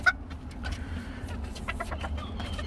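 A yellow-legged, yellow-beaked rooster offered for sale gives a few soft clucks and short calls nearby, faint over a low background rumble.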